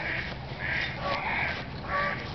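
A duck calls outdoors in a series of three or four harsh, raspy quacks at a moderate distance.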